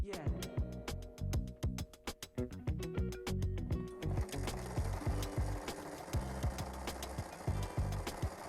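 A sewing machine top stitches around the opening seam of a beach bag with bamboo handles. It runs in a fast, even mechanical rhythm of clicks and thumps, close and fairly quiet, and the pace quickens partway through.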